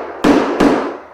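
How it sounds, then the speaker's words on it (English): A hammer drives nails in while flooring is fitted along the skirting, with two loud, sharp strikes about a third of a second apart, each ringing briefly before fading. "Usually it only takes one hammer to hit the nail in."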